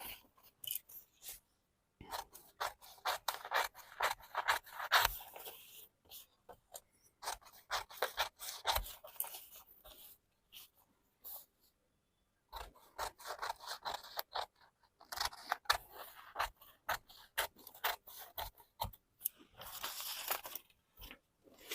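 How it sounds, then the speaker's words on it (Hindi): Scissors snip through blouse fabric for a Bombay-cut blouse in quick, close, crisp cuts, grouped in bursts with short pauses between runs. "अब मैं इसे काट लेती हूँ।"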